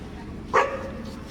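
A single short dog bark sounds once at moderate distance, then only faint background noise follows.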